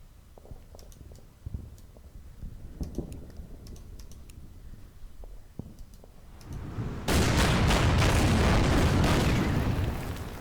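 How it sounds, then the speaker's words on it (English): Artillery bombardment of enemy positions in the Pacific wargame Order of Battle: Pacific, Betio Island battle: soft clicking at first, then a sudden loud, sustained roaring barrage of explosions that fills the last few seconds. "And let's keep bombarding the enemy."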